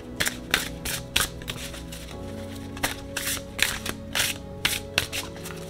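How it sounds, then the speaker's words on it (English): Elemental Oracle cards are shuffled by hand at close range, giving a series of crisp riffling bursts at irregular intervals over a quiet background. "We're gonna shuffle first."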